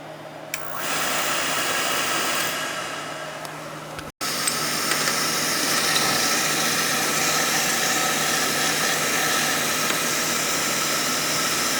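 The motor of an oil burner runs steadily after a nozzle and filter change, a loud continuous mechanical hum and whir with a brief dropout before it picks back up and holds an even drone, no voices over it.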